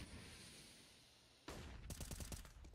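After a quiet stretch of background noise, a rapid burst of gunfire crackles in quick succession, like automatic weapon shots, in a Counter-Strike: Global Offensive match.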